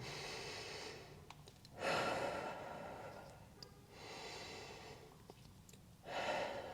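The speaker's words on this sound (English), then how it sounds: "Inhale through your nose. Exhale through your mouth." During a Pilates reformer workout, a person breathes in through the nose and out through the mouth, with two loud, close exhales and quieter inhales between them.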